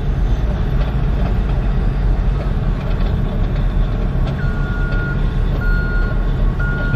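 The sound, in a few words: road train truck reversing with beeps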